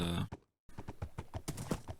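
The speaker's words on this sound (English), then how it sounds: "that made all of my horses basically seem to run at the same speed" Horses gallop along a racetrack in Minecraft, a quick run of hollow clip-clop hoofbeats that cuts out briefly and then returns as a steady, fairly loud rhythm with a faint whinny near the start.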